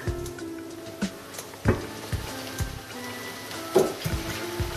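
Rice and mushrooms cooking on low heat in a pot, a soft steady sizzle and gentle bubbling with occasional small pops and clinks, quiet and close.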